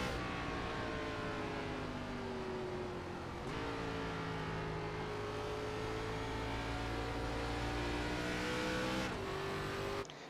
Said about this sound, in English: And you hear Kyle Martinson actually shifting as they go down into the corner.